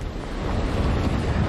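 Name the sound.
hurricane Katrina wind gusts in Mobile, Alabama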